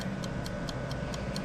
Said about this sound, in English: If you hear something ticking in the background